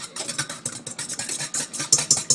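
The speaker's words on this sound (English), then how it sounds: "I'm going to whisk it just until it's frothy, but not that stiff yet" A mixture for homemade fortune cookies is whisked in a bowl until frothy, giving a fast, steady run of soft scraping swishes and light clicks from the whisk, close and moderately loud with no voices.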